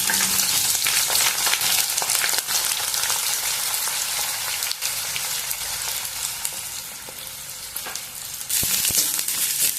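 Onions and green chillies fry in a pan for a moth bean curry, a steady loud sizzle and crackle with occasional stirring scrapes running throughout.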